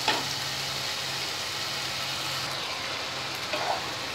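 Steady sizzle of a spice masala frying in a pan after tomato gravy goes in, for a Bengali taro root and prawn curry, with an even hiss throughout and a few faint clinks.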